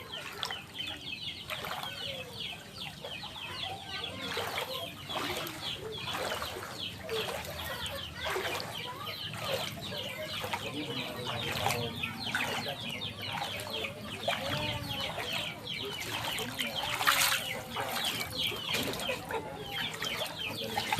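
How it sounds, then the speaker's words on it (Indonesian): Many chickens cluck and chatter in coops in a flooded village, a dense, continuous flock noise at moderate distance with occasional wing flaps and no clear talk. "Wah nih banyak peliharaan ayam kayaknya nih. Ini kandang-kandang ayam tuh."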